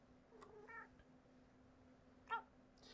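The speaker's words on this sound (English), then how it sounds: "this cat is just going to keep meowing at me if I ever stop constantly petting it" A house cat meows close by, first a short call then a sharper, louder one a couple of seconds later, over a quiet room with a faint steady hum.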